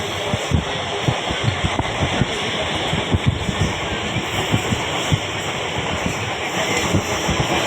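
Passenger train travelling from Bally toward Porabazar, a steady rumbling ride with rhythmic wheel clacks and wind noise throughout, heard from inside the carriage.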